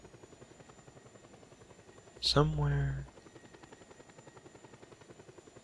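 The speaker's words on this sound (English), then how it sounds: "Oh, there's another helicopter." Helicopter in the video game Just Cause 2 passes briefly as a loud burst of rotor and engine noise lasting under a second, over steady game background noise, with a voice speaking briefly.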